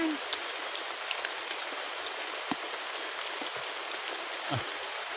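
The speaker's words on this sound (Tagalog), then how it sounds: "Ang lakas ng ulan eh." Dense, steady heavy rain hisses continuously on surfaces nearby in the mountains, with a few faint thumps and murmurs underneath.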